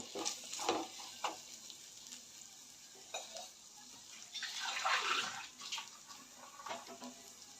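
Half a glass of water goes into a pan of ridge gourd and chana dal bhaji, causing a hissing sizzle and splashing, then stirring scrapes as it cooks, close and moderately loud.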